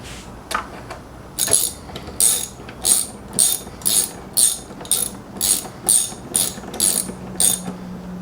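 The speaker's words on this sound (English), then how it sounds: "And replace the two 10mm screws," Two 10mm screws being driven back into a Jeep Renegade 1.3T engine bay with a ratchet, a steady series of about a dozen crisp, close clicking bursts in even rhythm.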